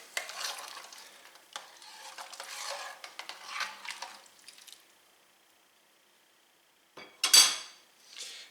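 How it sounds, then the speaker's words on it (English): Ingredients for pea soup, with smoked ham hock, stirred in a pot: scraping, swishing strokes for about five seconds, a pause, then a sharp metallic clatter and a final scrape. "But first I'm going to stir all of this. Just mix everything together."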